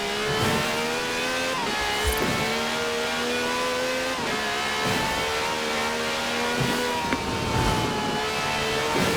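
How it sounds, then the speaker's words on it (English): V12 taxi with over 750 horsepower in Forza Horizon 4, revving hard through repeated gear shifts, with a loud, close engine note that rises and drops rhythmically several times, with hints of tyre squeal. "This has a V12 with over 750 horsepower"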